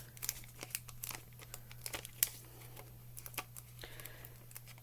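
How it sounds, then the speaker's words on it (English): Backing paper is peeled off scrapbook embellishments in close, quiet crinkling and tearing bursts, irregular and scattered, with no talk. "we're going to peel all the backings off these"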